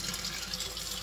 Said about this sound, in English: put water in my sink.